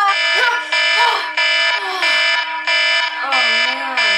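A loud alarm clock goes off with repeated electronic beeping pulses in a steady rhythm, close and harsh, while a voice exclaims over it.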